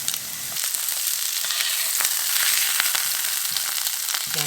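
Sea bass fillet sizzles loudly in a hot pan after being flipped, a dense, steady crackling fry with small pops and stirring scrapes, close and continuous.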